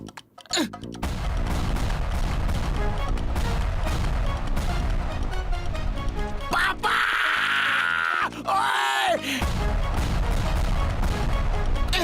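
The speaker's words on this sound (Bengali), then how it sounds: "এবার বোম ব্লাস্ট করে দাও" A cartoon bomb blast in a Bengali-dubbed Motu Patlu episode: loud booming and crashing explosion effects, with bright sweeping bursts in the middle, close and sustained, with faint voice sounds underneath.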